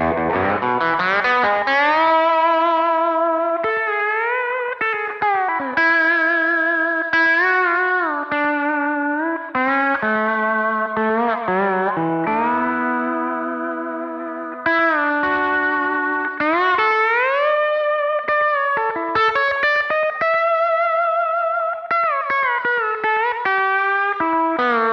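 Epiphone Les Paul Custom with P90 pickups played with a slide through a TS-style boost and slapback delay: gliding, sustained, slightly overdriven notes that bend smoothly between pitches with short echoes trailing behind, loud and continuous, purely instrumental.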